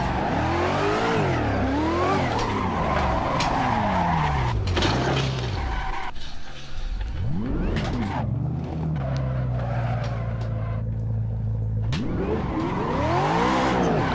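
Mazda Miata drifting in the Assetto Corsa racing game, with loud engine revs rising and falling, continuous tire squeal and skidding, and repeated throttle swells over the whole stretch, with no talk.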